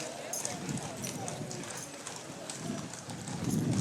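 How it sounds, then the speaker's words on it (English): Rhythmic clip-clop of many horses' shod hooves on pavement during an Independence Day parade, steady and fairly close, with people talking over it throughout. "you could really hear the clomping of the horseshoes"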